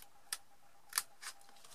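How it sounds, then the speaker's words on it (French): Small precision scissors snipping paper for a card project: a few crisp, close snips spaced unevenly over quiet room tone, with no talk. "nous allons prendre nos petits ciseaux de précision"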